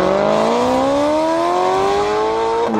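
A Maserati Quattroporte with a Ferrari-built V8 revs loudly and climbs through a gear in one long rising roar, strong tonal engine harmonics close to the microphone before a sharp shift near the end.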